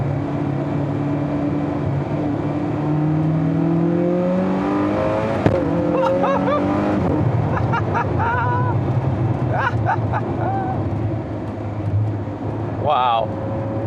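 A Zenvo TSR-S sports car's engine drones steadily from inside the cabin while driving, with rising and falling revs and a brief sharp blip near the end, as people talk over it.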